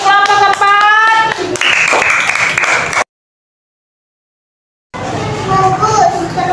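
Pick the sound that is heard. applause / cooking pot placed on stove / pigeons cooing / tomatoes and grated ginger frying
applause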